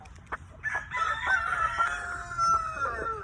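A frazzled hen called Lil Mama clucks and squawks in a backyard flock, with a rooster-like drawn-out call among agitated close-up clucks that continue steadily throughout.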